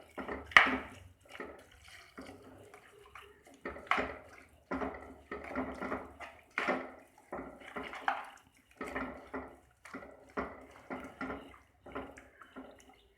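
Water splashes and pours into a cooking pot in short repeated bursts, with clinks of the pot between pours, fairly close and without talk.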